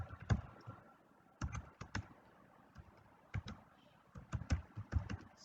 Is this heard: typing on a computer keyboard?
yes